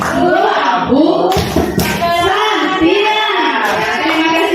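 A group claps in a steady rhythm for the Indonesian 'tepuk santiang' clap chant during a teaching session, the claps running under continuous voices that chant or talk throughout.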